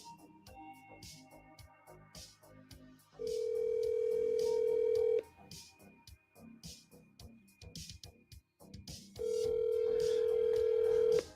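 An outgoing phone call rings out twice, long steady ring tones separated by a pause, with quiet background sounds and no answer.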